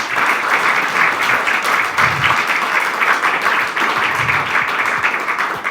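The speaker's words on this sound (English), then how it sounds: "Please give a round of applause." Steady, dense applause from a conference audience thanking a panel on Romania's energy future, many hands clapping continuously at a fairly loud, even level throughout.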